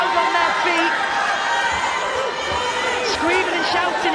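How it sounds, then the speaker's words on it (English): A boxing crowd at the Connor Butler vs Jay Harris fight makes a steady roar of shouting and screaming, with an announcer speaking over the din throughout. "screaming and shouting at their fighters to push them forward"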